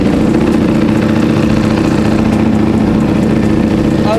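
Ducati Streetfighter V4S motorcycle fitted with an upgraded muffler, its engine running loud and steady close by, a deep continuous rumble with slight rises in revs throughout.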